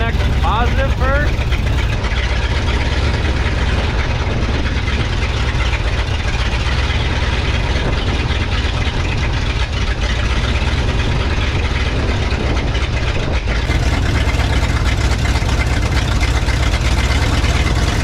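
A Ford F600 truck engine runs at a steady idle, a loud, low, constant rumble filling the clip, while a person talks close by over it.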